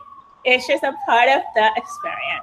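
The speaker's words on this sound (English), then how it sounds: "if you hear sirens outside," Siren wailing outside on a New York City street, a steady tone running faintly beneath a person talking in the foreground.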